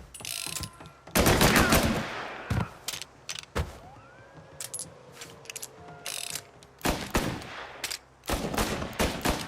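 Gunfire in the Mafia Definitive Edition video game: bursts of loud shots, one dense volley near the start and more clustered bursts later, with quieter stretches of game ambience between.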